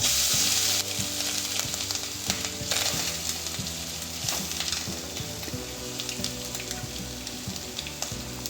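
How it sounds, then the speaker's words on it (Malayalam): Steady crackling sizzle of coconut frying in hot coconut oil over medium-low flame, close and continuous, with occasional sharper pops and faint clinks of a pan. "ഇത്തിരി വെളിച്ചെണ്ണ ഒഴിച്ചിട്ട് നമുക്ക് തേങ്ങ ഇട്ട് കൊടുക്കാം"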